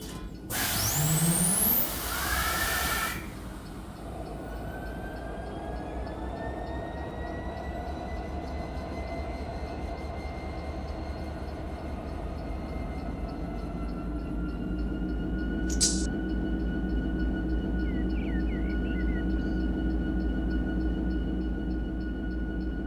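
A diesel locomotive engine in the Run8 train simulator cranks to life with a loud starter burst, then settles into a steady low idle rumble that swells slightly near the end, with a brief hiss midway.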